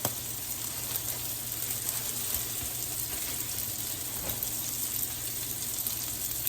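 Smash burger patties fry in a hot pan, giving a steady, loud, continuous sizzle and crackle that runs unbroken from start to finish with no talk over it.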